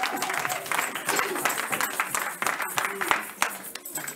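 Church congregation applauding during a French-language sermon, a dense wash of clapping from many hands mixed with crowd noise and voices underneath, steady throughout.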